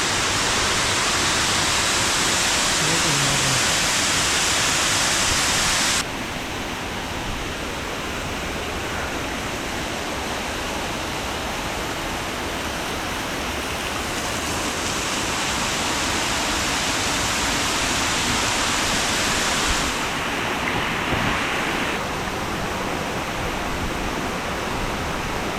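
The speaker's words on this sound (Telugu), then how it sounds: "ఈ వాటర్ ఫాల్ కింద భలే ఉంది" A waterfall near Rajahmundry and Kakinada on a nature trip, heard as a dense, loud, unbroken roar of rushing water, close by and steady throughout, with a brief shift in tone early on.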